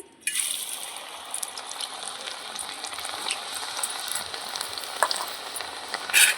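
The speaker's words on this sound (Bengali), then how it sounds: "এই দেখুন বাদবাকিগুলো আমি ভেজে নিচ্ছি" Lentils fry in oil over a low flame for crunchy homemade dalmuth, a continuous close bubbling sizzle with light stirring scrapes and a sharper crackle toward the end.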